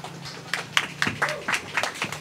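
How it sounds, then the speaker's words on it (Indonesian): A small audience welcomes a guest speaker at a book event with light, scattered applause, a few distinct claps close together, faint against a quiet room, while a host's voice talks alongside. "beri tepuk tangan untuk beliau"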